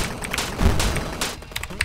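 Missile launches in the digging game Cavern Kings: several loud, booming blasts in quick succession with low thuds, followed by sharper crackling pops near the end.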